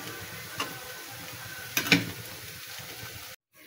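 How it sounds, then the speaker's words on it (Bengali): Kochur loti (taro stolons) cooking in a pan gives off a low, steady sizzle, broken by a few quick scrapes and clinks of a spatula as it is stirred, before the sound cuts off abruptly. "একটু নাড়াচাড়া দিই"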